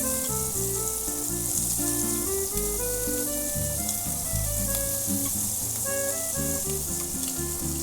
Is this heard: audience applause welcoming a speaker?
no